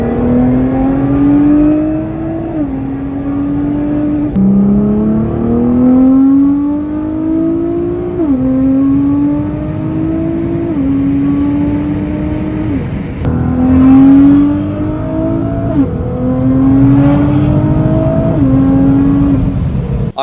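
A new BMW replacing an F80, driven away from delivery, its engine rising steadily through each gear with clear shift drops, smooth and up close from inside the cabin over a constant road whir.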